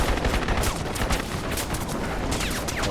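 Sustained automatic gunfire fills the battle on a beach in Crysis Warhead, a dense, continuous rattle of machine-gun bursts overlapping one another at steady loudness throughout.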